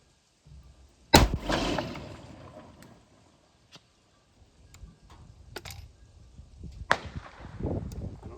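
A 40mm launcher fires a 37mm chalk air burst signal round outdoors, one sharp loud crack followed by a fading rumble, with fainter pops and a second sharper report several seconds later.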